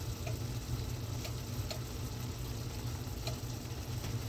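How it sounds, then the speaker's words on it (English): Strawberry fried-pie filling bubbling in a pan, a soft continuous sizzle and simmer with faint occasional pops, fairly quiet and steady with no voices. "So once the strawberries done got a good bubbly"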